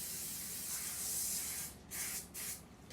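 Cooking spray hisses from a can into an 11 by 7 baking dish, one long close spray followed by two short bursts.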